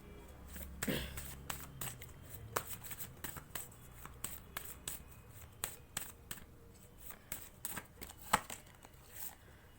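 Tarot cards being shuffled close by, a dense run of quick papery riffles and soft slaps repeating through the whole stretch, fairly quiet.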